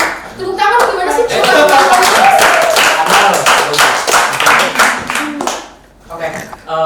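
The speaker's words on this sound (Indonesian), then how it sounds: "Tepuk tangan gimana sih?" Hands clap rapidly and loudly in a podcast studio, a quick run of sharp claps that fills several seconds, dips briefly, then resumes, with voices and laughter mixed in.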